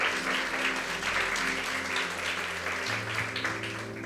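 Church congregation applauding during a Portuguese-language worship service, a steady, dense wash of many hands clapping over low organ or keyboard tones, continuous and fairly loud throughout.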